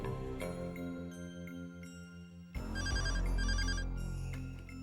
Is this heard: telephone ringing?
yes